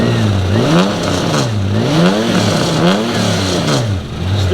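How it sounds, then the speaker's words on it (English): A wingless sprint car engine, just fitted with three new injectors and still running rough, revs up and down repeatedly at Murray Bridge Speedway, loud and close, with rising and falling pitch sweeps. "See what happens when he revs her up."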